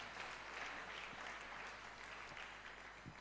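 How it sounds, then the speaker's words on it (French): A church congregation claps and cheers in praise of the king of kings, a steady, faint wash of applause with a few sharper claps toward the end. "Acclamons très fort pour le roi des rois."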